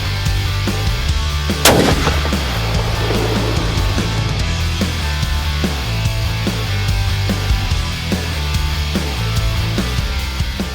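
A Browning X-Bolt Hills Canyon Speed rifle fires once at a 600-yard range, one sharp, loud crack standing out against a steady rhythmic pulsing background.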